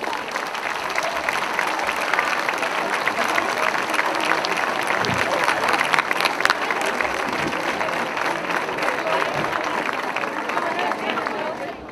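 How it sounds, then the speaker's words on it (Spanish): A large crowd applauds the 2016 festival officials onstage at their presentation ceremony, with sustained dense clapping and some voices mixed in throughout. "Demos un fuerte aplauso a nuestros cargos festeros 2016"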